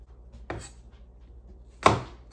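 A hand-forged meat cleaver chops through a bruised but firm apple on a kitchen board, two sharp separate thunks spaced over a second apart in an otherwise quiet room.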